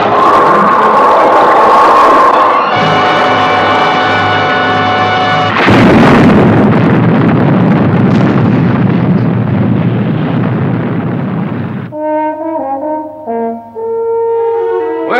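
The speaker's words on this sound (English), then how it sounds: "Right, fire Sting missile." A Sting missile launched and detonating in the Stingray puppet series: a roaring blast, then a long rushing burst and a heavy explosion with rumbling debris, loud and up close, ending under a musical sting.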